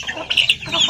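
Young Bangkok chickens clucking close by in a home yard after morning feeding, a quick series of short, sharp clucks and chirps, fairly loud and with no talk.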